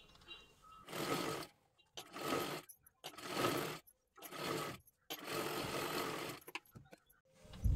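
Sewing machine double-stitching a silky katori blouse piece, running in five separate bursts with short pauses between them, close and fairly quiet, with no talking.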